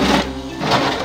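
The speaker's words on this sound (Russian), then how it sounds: "Давайте вентилятор попробуем." A small toy fan in a Barbie dollhouse runs with a steady, close motor whir and faint mechanical hum for about a second, with no talking.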